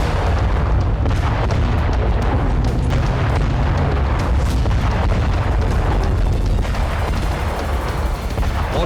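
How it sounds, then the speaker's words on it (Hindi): A Ukrainian drone strike hits a Russian radio station in Belgorod, producing a loud, sustained roaring blast with heavy low rumble and crackling debris that continues without pause. "बेलगोरोद में ही यूक्रेन ने रूस के रेडियो स्टेशन को इस धमाके से तहस नहस कर दिया"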